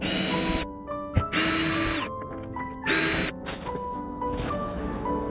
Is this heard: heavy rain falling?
no